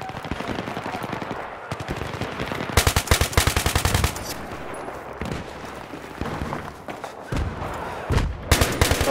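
L85A2 rifle fire in a video game, rapid automatic bursts crackling loud and close, with quieter distant shots and thuds between them.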